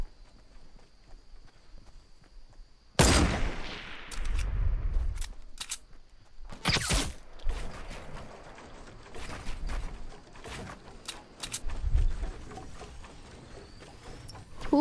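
Sharp gunshots and sniper cracks ring out in a Fortnite Battle Royale match, loud isolated bursts scattered among footsteps and movement noise.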